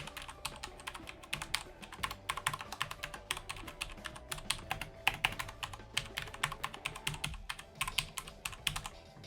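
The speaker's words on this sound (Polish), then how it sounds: "chcielibyście pewnie zobaczyć mniej więcej jak tutaj się klika w tą klawiaturę" Rapid, continuous clacking of a QPAD MK-50 mechanical gaming keyboard being typed on, with dense irregular keystrokes close to the mic and no voices.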